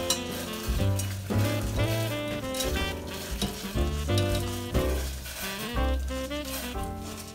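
Buckwheat bubbles and simmers in a pot on the stove, a dense continuous crackling and popping heard close up with a pulsing rhythm and no talk.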